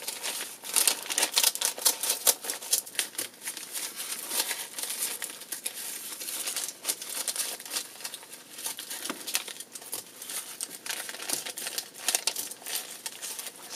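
Scissors snip through paper to cut a bumpy-edged leaf shape for a fall garland, a quick irregular run of close, crisp cuts and rustling, with no talk.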